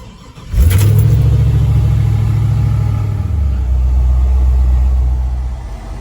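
An old truck's 5.3 engine turns over and settles into a steady, close, loud idle, a low even rumble that holds for several seconds and then drops to a deeper tone toward the end.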